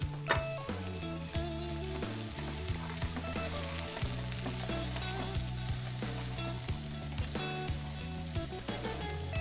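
Runner beans and peas fry in a pan for Nigerian fried rice, making a continuous, even sizzle that stays steady throughout at close range.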